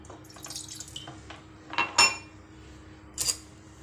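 Half a cup of water goes into a pan for jaggery tea, heard as close splashes and clinks of the vessel, with a few sharp bursts of pouring and metal contact.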